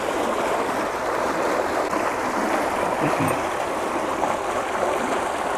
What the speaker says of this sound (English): Even though we got water dumping in here.